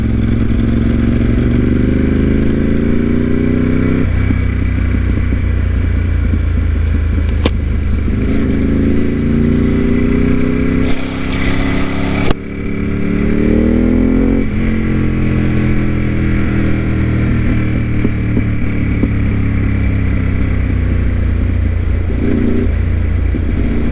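Ducati 748R race motorcycle ridden over Yabitsu Pass (Route 70) in Japan in winter, its loud engine climbing through repeated rising revs and gear changes, with brief dips between pulls and constant wind rush.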